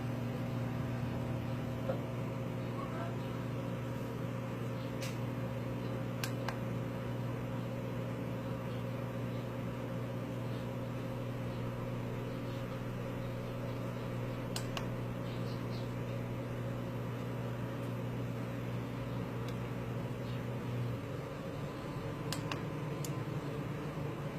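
A microwave oven hums steadily and quietly for a long stretch, with a constant low drone and occasional faint clicks.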